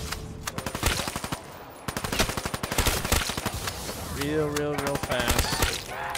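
Weevil gun in Black Ops 3 Zombies firing in fast automatic bursts, loud and close with brief pauses, while someone talks over it and other game sounds.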